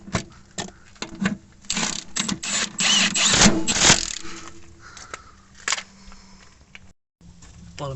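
Power impact gun driving the top bolts of a rear shock absorber on a Volkswagen Passat, a run of sharp mechanical rattling bursts up close with brief pauses between them, no talk.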